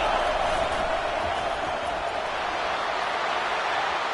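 A stadium crowd roars steadily in a college football video game during a Florida versus LSU matchup, a dense, loud, continuous wash of cheering with no distinct voices.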